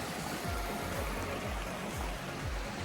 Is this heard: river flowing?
yes